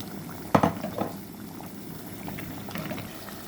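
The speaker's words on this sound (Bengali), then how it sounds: "কাতলা মাছের তরকারি মাছটা দিয়ে নিলাম।" Katla fish curry bubbles in a pan at a soft simmer, opened by a brief clatter of utensils before the gentle boiling continues on its own.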